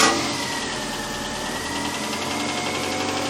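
A Ford Mk1 car engine starts with a brief louder burst at the beginning, then settles into an even, mid-pitched idle that runs steadily throughout, close and alone.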